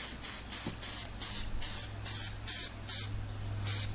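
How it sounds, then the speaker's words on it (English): Spray adhesive hissing from an aerosol can onto a car door panel, in a steady run of about nine short, close bursts over a low background hum. "I'm going to spray."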